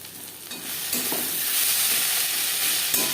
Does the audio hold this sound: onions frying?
yes